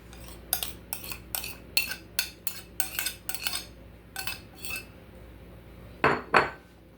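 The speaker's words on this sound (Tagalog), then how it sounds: "Ihalo na natin ito dito." A utensil stirs mashed banana into pancake batter in a bowl, giving quick rhythmic clinks and scrapes in bursts, then two louder knocks at the end, fairly faint and with no voices.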